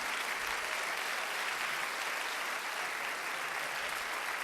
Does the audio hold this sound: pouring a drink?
no